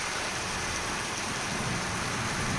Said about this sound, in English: It's pouring down. Finally it's cooling down.